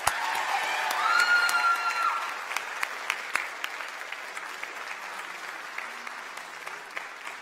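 An audience applauds the event planner at an evening awards night, a full burst of clapping that swells early, then thins into scattered individual claps that fade toward the end.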